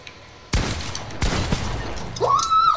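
Gunfire in the video game Fortnite after a window edit: two sharp shots crack close and loud, each with a ringing tail, followed by a rising electronic game tone at the end.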